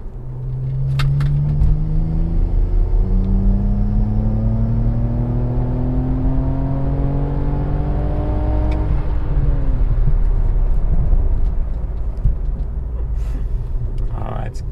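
BMW E92 335i with N54 engine on port injection and flex fuel accelerating hard through a logging pull, loud steady drone rising in pitch through gears with a shift near the end, heard from inside the cabin.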